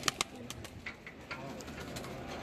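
Pigeons coo softly on a rooftop, with a few low, faint calls under quiet outdoor ambience and some light taps near the start.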